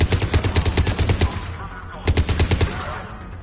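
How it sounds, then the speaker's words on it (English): Rapid bursts of battlefield fire in Mass Effect 3, loud and close, coming in two rattling volleys separated by a short lull, with a faint voice underneath. "Commander, we're getting a lot of mortar fire"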